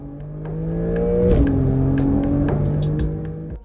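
A Porsche 911 Carrera (992) engine rumbles and revs up, climbing in pitch before easing off, loud and close with no voices.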